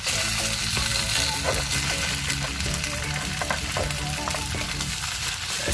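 Cooked rice fries in a hot pan with shallots, garlic and chili for bamboo fried rice, making a loud, steady sizzle with occasional stirring scrapes.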